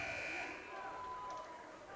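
A basketball game buzzer ends the first quarter of a college homecoming game, sounding as a steady electronic tone under crowd noise and an announcer's voice.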